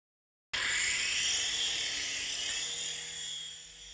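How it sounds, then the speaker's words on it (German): JJ RC 2.5-channel toy helicopter with its rotor spinning fast in flight, starting abruptly as a loud, steady high-pitched whirring buzz that holds for several seconds and eases slightly toward the end. "Lässt man den Rotor schneller drehen, ist es eigentlich üblich, zumindest bei meinem Modell,"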